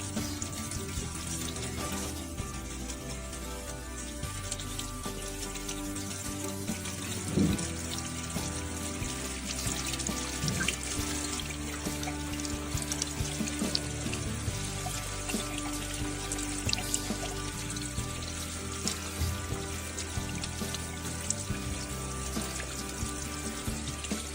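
Water runs steadily through the cooling system of a BMW Z4 E89 with an N20 engine during a coolant flush, a continuous splashing, rushing stream that holds at an even level throughout.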